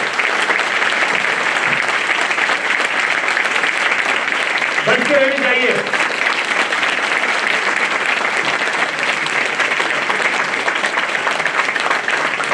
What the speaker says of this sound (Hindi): अपने लिए जोरदार तालियां अपने स्वागत के लिए।